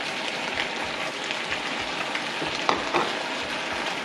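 Pineapple added to a pan of sizzling sweet and sour chicken, a steady frying hiss with soft rhythmic stirring scrapes and a couple of sharper clinks near the middle, without talk.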